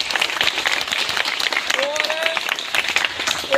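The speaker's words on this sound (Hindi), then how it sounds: "इनके लिए जोरदार तालियां।" An audience at a BJP OBC Morcha political event applauds warmly, dense continuous clapping near and loud, with a voice speaking over the applause.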